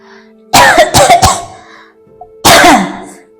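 A burst of three or four harsh coughs, a pause, then one more heavy cough, loud and close with no talking.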